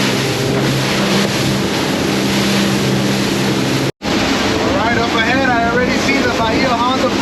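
Motorboat running at speed across the bay near Bahia Honda Bridge in the Florida Keys under stormy weather, a loud steady engine drone with wind buffeting the microphone and someone talking over it.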